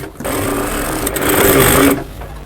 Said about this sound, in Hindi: अब हमने यहाँ से एक पैर की सिलाई लगाना है।